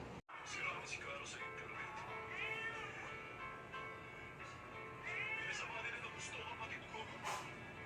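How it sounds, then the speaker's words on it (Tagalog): A cat meows softly nearby, with a couple of drawn-out meows, the clearest around the middle of the clip, against a quiet indoor background where a person seems to speak gently. "Kaninong pusa ka ba, ha? Kaninong pusa ka?"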